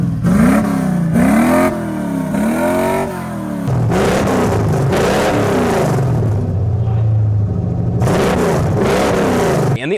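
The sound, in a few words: 1987 Squarebody truck engine with Freedomatic exhaust revving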